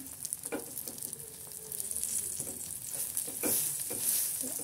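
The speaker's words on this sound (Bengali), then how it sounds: "আজকে এখানে বেগুন ভাজতেছি" Eggplant fries in a pan with bright, hissing sizzle and crackle, punctuated by several clinks and scrapes of a spatula, nearby and fairly soft.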